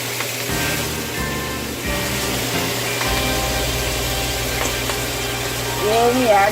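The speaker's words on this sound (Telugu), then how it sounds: "మన చికెన్ నెయ్యి వీటెక్కింది. ఇప్పుడు చికెన్ వేసుకోవాలి." Chicken pieces frying in hot ghee for a chicken masala curry, a steady dense sizzle that swells louder as the meat goes in, close and continuous throughout.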